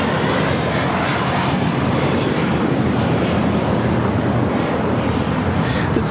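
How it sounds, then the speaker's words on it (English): Delta Airlines Boeing 757-300 landing at LAX, a steady loud jet engine roar with broad hiss and rumble, continuous throughout and heard from fairly close. "This is Delta Airlines 794 coming in from Detroit on the 757-300."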